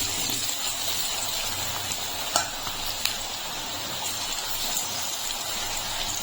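Bitter gourd pieces fry in hot white oil with a steady, close sizzle and crackle, punctuated by a couple of sharper pops and light stirring, with no voices.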